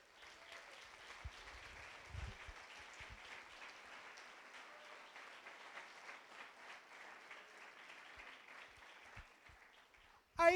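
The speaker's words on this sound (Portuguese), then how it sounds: "Aplauda o Senhor Jesus Cristo." A church congregation at a Sunday worship service applauds in a long, steady wash of clapping, fairly soft and distant, with a sharp noise right at the end.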